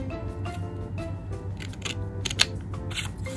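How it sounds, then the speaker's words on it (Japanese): Scissors snip through a sheet of origami paper while a New Year battledore and shuttlecock craft is made, giving a few crisp, close cuts over a steady low background hum. "ハサミでカットしてください。"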